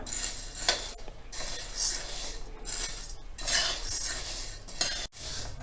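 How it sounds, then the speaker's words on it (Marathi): Chana dal dry-roasts in a pan over low to medium flame, a metal spoon scraping and clinking through the lentils in repeated strokes with dry rustling between, close and fairly quiet. "आता आपण चणा डाळ भाजून घेणार आहोत चणा सुद्धा व्यवस्थित भाजून घ्यायची आपल्याला लो टू मिडियम फ्लेमवर"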